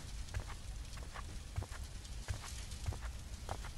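Horse hooves clip-clop in a scary comedy video game, a steady run of soft, regularly spaced hoof strikes carrying on over a continuous background hum, with no talking.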